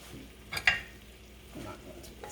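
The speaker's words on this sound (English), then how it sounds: "I have a spatula here. I'm just going to mix up all of this." A spatula stirs a Spanish potato omelet mixture in a bowl for a spicy breakfast, with one brief scraping swish and a sharper clink early on, then faint soft stirring sounds.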